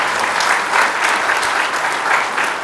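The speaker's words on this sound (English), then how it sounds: "loud round of applause" A conference audience at a trade association convention claps in a steady, dense round of applause, loud and sustained throughout with no voices over it.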